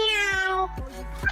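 A human voice imitates a cat's meow, giving a few drawn-out, whiny mewing calls with rising and falling pitch, close to the microphone and fairly soft.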